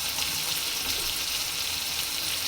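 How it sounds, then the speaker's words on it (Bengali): Ginger-garlic paste fries in hot oil in a pan, a continuous close hiss and crackle with no talking. "সাথে আদা রসুনটাও ভেজে নিলাম"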